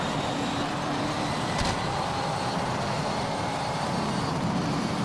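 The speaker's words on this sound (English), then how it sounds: "The car sounds strange because of the view." Engine of a Japanese GT500 racing car heard from a replay camera in a racing game, a steady, somewhat muffled roar under constant road noise, with one brief sharp knock partway through.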